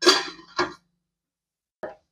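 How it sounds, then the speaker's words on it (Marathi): A lid goes onto a cooking pot with two quick metallic clanks close together, then a short pause and one fainter clink; no talking. "त्याच्यासाठी वर झाकण."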